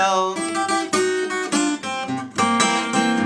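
Guitar double stops ring out in a loose, bluesy rhythm of paired notes, close and fairly loud, with no voice over them.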